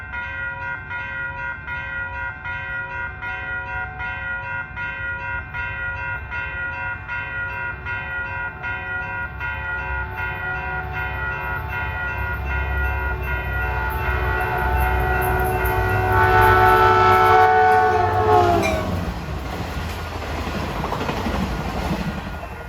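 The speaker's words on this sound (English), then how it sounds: "approaching his train 518, San Francisco to San Jose, limited stop train" Caltrain limited-stop train 518, San Francisco to San Jose, rushes past trackside at twilight without stopping, a steady roar of wheels and cars with a long, loud multi-tone horn blast that swells near the end before fading.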